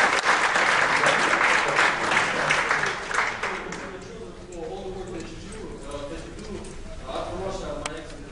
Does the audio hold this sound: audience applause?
yes